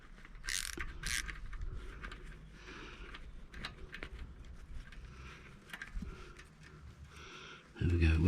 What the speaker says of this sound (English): wrong way on the ratchet